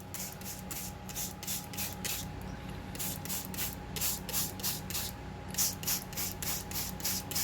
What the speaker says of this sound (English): we're going to spray them in nicely